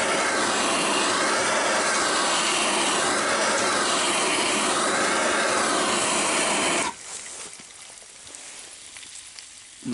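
A blowtorch flame heats a cooking pan, giving a loud roaring hiss with a slowly wavering tone that cuts off abruptly after about seven seconds, leaving only faint quiet crackle.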